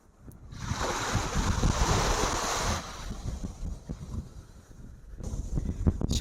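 Waves wash onto a beach set between two mountains, a broad hissing surge that swells and recedes, with wind buffeting the microphone and no voices.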